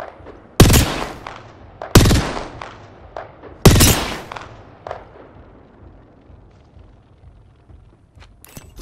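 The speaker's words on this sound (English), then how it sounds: "Opening fire." Video game gunfire: three loud, sharp shots about a second apart, each with a decaying echo, followed by fainter scattered pops and cracks trailing off.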